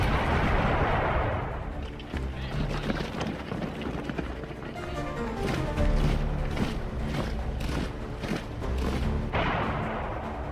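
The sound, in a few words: cannon fire in WW2 footage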